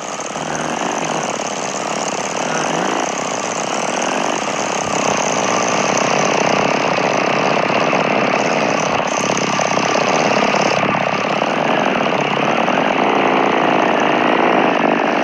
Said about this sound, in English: I need to get off the moped.